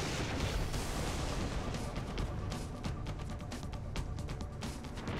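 A rocket launched and exploding in the video game XCOM Long War, heard as a continuous, heavy rumbling blast with crackling bursts, sustained and fairly loud throughout without talk.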